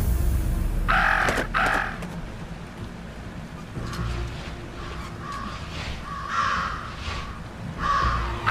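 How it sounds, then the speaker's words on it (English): Crows cawing in the video game Jenny LeClue Detectivu, a string of harsh calls in separate bursts, several fairly close and loud over a steady ambient bed, with no one talking. "Talk about a murder of crows."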